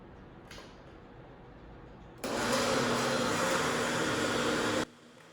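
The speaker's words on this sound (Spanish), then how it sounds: "Y voy a licuar todo muy bien" Blender whirs loudly for about two and a half seconds while pureeing a ham and cheese pie filling with seasonings, starting abruptly and cutting off cleanly, with a quiet room before and after.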